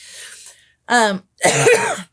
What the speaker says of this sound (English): Sorry about that if I cough in the middle of things.